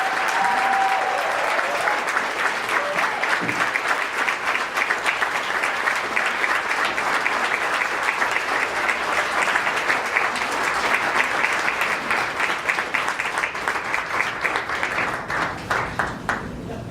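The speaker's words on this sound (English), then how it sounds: "So let's give her a round of applause, Miss Alice Osipowicz." An audience at a scholarship foundation's inaugural gala breaks into loud, sustained applause, dense clapping filling the room for the full stretch and tapering slightly at the end.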